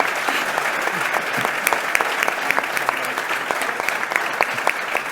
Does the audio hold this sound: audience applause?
yes